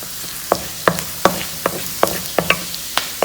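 Chicken sautéing in a pan, a soft sizzle punctuated by regular sharp taps and scrapes of a utensil stirring, close and steady, with no voices.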